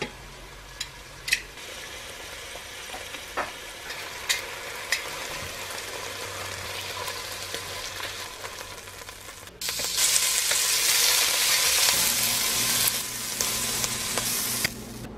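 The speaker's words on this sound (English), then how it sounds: "We're going to brown off all the sides of this and then switch out and do another batch." Seasoned meat browning in oil in a pan for Irish stew, a steady sizzle with scattered clicks and knocks, then a much louder, fuller hiss for the last few seconds, no one speaking.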